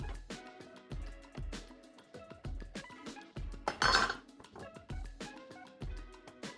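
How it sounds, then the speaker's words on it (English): Knife chopping an avocado on a board in a home kitchen, a steady run of sharp close taps with brief clinks of utensils and dishes, no voices. "Chopped an avocado."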